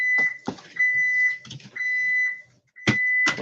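A home burglar alarm keypad beeping as the system is armed, with repeated sharp electronic tones in short bursts and pauses, close and clear.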